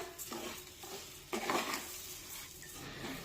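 Cooked semolina for sheera being stirred after sugar is added, a soft scraping in the pan with occasional spoon knocks and a brief louder swirl partway through.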